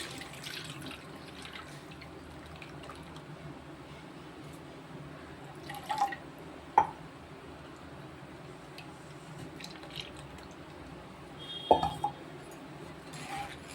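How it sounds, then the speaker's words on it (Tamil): Soft trickling and dripping of wheat flour batter mixed with water through a strainer, quiet and close, broken by a few sharp clinks of utensils. "கொஞ்சம் இதை நல்லா தண்ணியை ஊற்றி வடிகட்டணும் இப்போ நம்ம வந்து வடிகட்டுவோம்"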